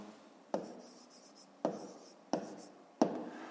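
A math answer is written by hand in four short, separate scratching strokes, close and quiet against a hushed room.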